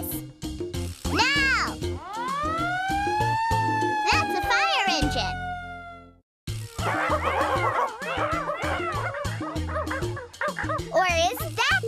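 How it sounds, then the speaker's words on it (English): Dogs bark and cats meow in a noisy jumble over bouncy music, with a whistle-like sliding tone and a brief pause partway through. "That is the sound of cats and dogs making a lot of noise."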